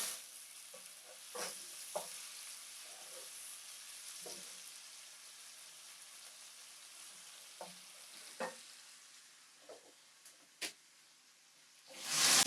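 Onions (kitunguu) with salt cook in a pan, giving a quiet, steady sizzle with a few light stirring clicks over about twelve seconds and a louder rustle at the very end.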